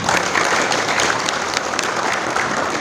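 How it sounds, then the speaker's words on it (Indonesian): Loud, dense applause from a crowd at a religious gathering in a regency hall in Blora, Indonesia, steady clapping with no pause. "tepuk tangan"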